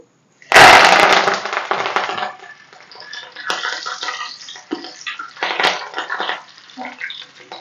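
Curry leaves hit hot oil with a sudden loud burst of crackling and spitting, then settle into a steady busy sizzle with popping flare-ups, frying after chana dal and cashews for a poha mixture snack.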